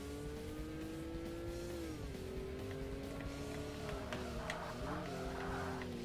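Engine of a Toyota Supra racing in the Forza Motorsport video game, a steady loud drone that shifts pitch with gear changes, with tire skids and squeals breaking in toward the end.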